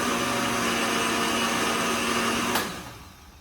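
A blender runs steadily on a creamy mixture, a loud continuous whirring motor pulse that holds for a couple of seconds, then cuts off with a brief thump and fades quickly away.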